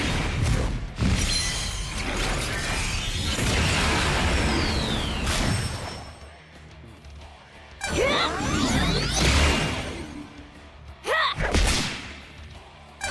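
A Graceful Cannon attack in the video game Digimon Story: Time Stranger, with loud sweeping whooshes, rising tonal swishes and heavy booming impacts in several bursts separated by brief quieter gaps.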